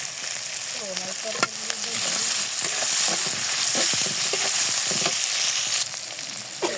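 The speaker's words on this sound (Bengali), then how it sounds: "এক মিনিটের মতো পেঁয়াজগুলো আমি নেড়ে চেড়ে নিয়েছি" Onions fry with a steady loud sizzle in a pan while being stirred, with scraping strokes and light clinks over the continuous hiss and a brief snatch of speech early on.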